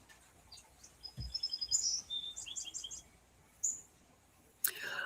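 Bird song of chirps and short tweets from several calls, some bright whistled notes and quick trills, with a brief low thump and a sharp rustle near the end over quiet background.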